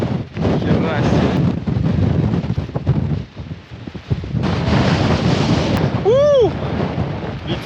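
Strong wind buffeting a microphone high in the Polish mountains, rough gusty roaring that rises and falls, loud and close, with a brief whistling tone near the end.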